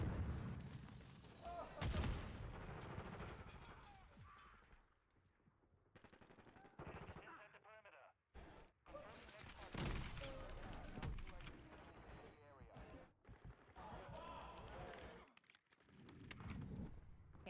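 Gunfire in the video game Modern Warfare 2, bursts of rapid automatic shots and heavier booms coming in uneven clusters with short pauses, mixed with other game sounds.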